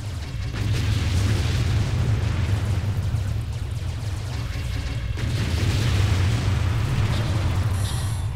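Continuous heavy explosions roll through a video game battle, a dense, loud rumble of booms and blasts with deep low-end weight, one sharp new burst partway through.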